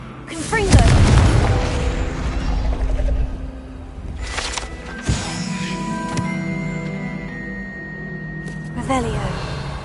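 Confringo spell explosion in Hogwarts Legacy, a heavy booming blast near the start followed by crackling bursts, sharp pops and ringing magical tones, with another impact toward the end and a voice casting spells.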